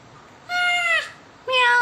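A young child imitates a cat's meow in two drawn-out, tonal calls separated by a short pause, clear and close against a quiet room.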